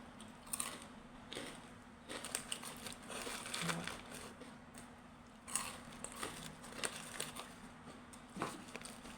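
Crunchy Cornick corn snack chewed close to the mouth, irregular crisp crunches and bites spread across the stretch, with no talking.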